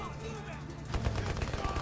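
Rapid bursts of gunfire from the shooting game Delta Force crackle under a Portuguese-speaking voice and music at Gamescom 2023, the shots fast and dense but fairly faint in the mix.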